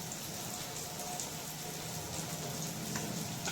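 Spices frying in a pan for moong dal curry give a steady, dense crackling sizzle, even and continuous throughout with faint scattered pops and no voices.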